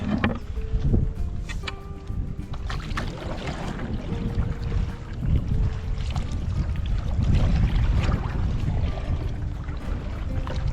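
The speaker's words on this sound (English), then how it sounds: "Just going to paddle ourselves back out of these mangroves." A canoe paddled out through mangroves on a lake, with steady water swishing and dripping from paddle strokes under light wind noise, close by and continuous, with no voices.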